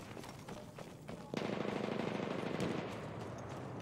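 Distant gunfire in the video game Battlefield 1: faint scattered shots first, then a steady rattling burst of automatic fire that starts abruptly and continues to the end.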